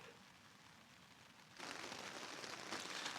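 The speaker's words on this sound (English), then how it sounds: "It's still raining" Steady rain pattering on a tent during a long, continuous downpour on a Pacific Crest Trail thru-hike, soft and even at first, then swelling into a louder, denser hiss halfway through with no voices.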